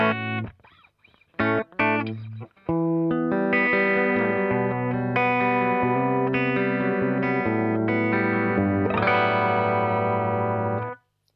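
A Hagstrom electric guitar plays ringing chords and melodic lines through a clean Fractal FX8 amp tone with light shimmer and reverb, steady and close, with no talking.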